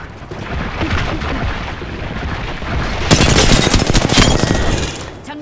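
Dense automatic gunfire from Apex Legends, a rapid stream of shots that keeps up throughout and grows louder and more intense partway through, with heavy overlapping bursts.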